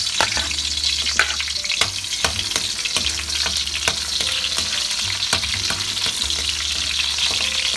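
Garlic fries in hot oil in a pan for bangus sa tausi, a steady crackling sizzle with repeated sharp clicks of a utensil stirring and scraping, close and alone without talk.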